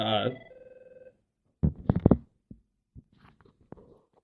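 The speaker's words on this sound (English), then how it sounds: "I'm at work, so the phone, of course, rings." A work telephone rings in a short burst of bright tones before falling silent, followed by a person speaking in brief bursts close by.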